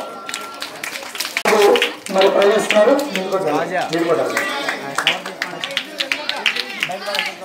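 Crowd clapping at an outdoor birthday celebration for a political leader, scattered sharp claps running under a loud announcer's voice over a public-address system.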